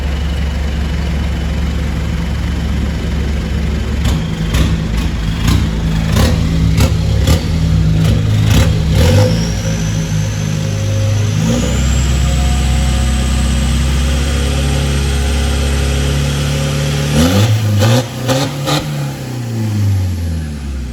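An old oil delivery truck's engine idles with a deep, steady rumble, then revs up and settles back down several times. It is loud and close throughout.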